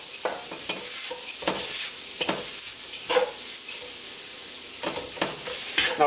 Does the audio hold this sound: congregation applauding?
no